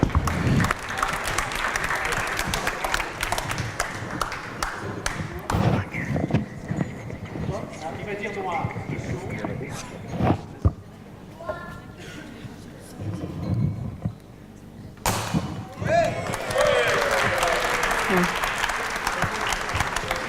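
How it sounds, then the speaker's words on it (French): Audience applause at a concert breaks out in two bursts, at the start and again near the end, moderately loud with voices and bustle in between. "Allez, on l'applaudit."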